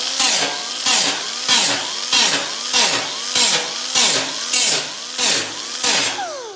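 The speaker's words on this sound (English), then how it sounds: "So here's my grinder. I use 36 inch or 36 grit." An angle grinder with a 36 grit disc grinds down a weld on a car dash, with loud, even pulses of grinding repeating about every half second as the disc sweeps back and forth over the metal.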